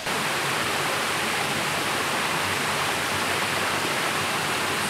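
Ohau Waterfall in Kaikoura, New Zealand, roars as a steady, dense rush of falling water, loud and constant with no other sound above it.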